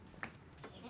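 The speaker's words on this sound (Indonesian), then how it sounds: "Kambing embe-embean." A goat bleats once briefly and fairly faintly, with a softer second call, against steady background noise in a rural village yard.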